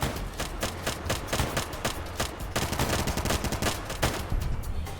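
Weapon fire in Fallout New Vegas, Honest Hearts DLC, with continuous loud automatic shots in a fast, steady rhythm.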